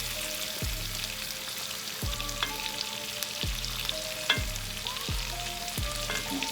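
Lamb chops pan-searing in butter with garlic and rosemary, a loud continuous frying hiss with crackle and spatter, and a few low knocks as the pan is tilted.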